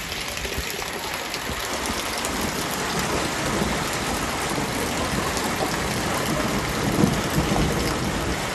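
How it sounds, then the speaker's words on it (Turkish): Heavy rain pours steadily in a dense, constant hiss during a village storm, with a low rumble of thunder swelling briefly partway through. "Şöyle yağmuru seyretmesi o kadar güzel ki."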